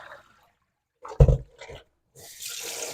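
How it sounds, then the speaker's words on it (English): Cold water pours into a pot while steamer clams are rinsed, with a brief splashing burst followed by a steadier rush of running water, close and fairly quiet. "Fill the pot again with cold water."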